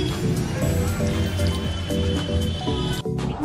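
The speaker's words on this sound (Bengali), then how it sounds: "আমি এখানে 1 কাপ জল নিচ্ছি" A cup of water is poured into rice flour, a close, continuous gurgling splash with uneven liquid pulses lasting a few seconds.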